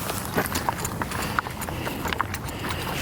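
Horse hooves clip-clop on flat desert ground as a rider mounts, a steady run of close, crisp hoof knocks with light shuffling between them.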